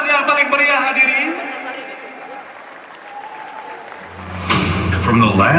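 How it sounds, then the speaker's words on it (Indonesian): A spoken announcement fills the opening seconds, then a large audience bursts into loud applause and crowd noise at the opening ceremony of the Pornas Korpri XVII sports event in South Sumatra, 2025. "Kita berikan tepuk tangan yang paling meriah,"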